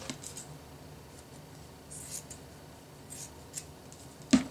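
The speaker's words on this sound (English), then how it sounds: "So now, at this point, I would cut it in half." Scissors snip through a length of fabric folded in half, cut to make scrunchies: a few soft, close snips over a quiet room hum, ending in one sharper click.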